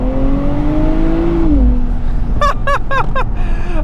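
Engine of a 2025 Nissan Z NISMO sports car heard from inside, a loud droning note that sweeps down, then four quick sharp blips of revving during fast manual downshifts.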